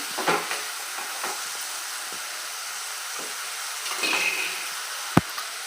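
Amaranth leaves with salt, turmeric and grated coconut sizzle and hiss in a frying pan while a spoon stirs them in a few scraping strokes, ending in a sharp clack of the utensil against the pan.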